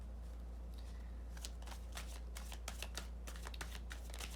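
Tarot cards being shuffled by hand, a run of soft, rapid riffling flutters that grows busier and denser after the first second, close to the microphone over a steady low hum.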